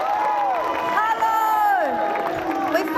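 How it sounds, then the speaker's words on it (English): Anti-government protest crowd in Civic Square, Wellington, cheering with whoops and scattered clapping, a lively mass of voices filling the space close by. "Big clap for you. Big cheer for you."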